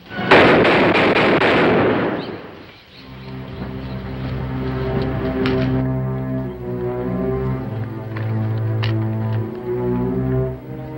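Gunfire in a western TV drama: one loud, sharp blast at the very start that dies away within about two seconds, followed by sustained tonal music running steadily underneath.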